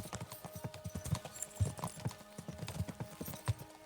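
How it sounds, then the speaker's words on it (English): Steady clip-clop of horse hooves at a brisk trot in Kingdom Come: Deliverance 2, close and fairly loud, with faint rattling and background ambience. "We should spur the horses on."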